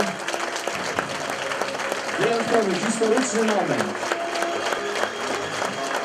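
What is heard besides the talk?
audience applause at hotel opening ceremony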